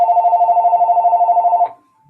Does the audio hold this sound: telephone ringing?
yes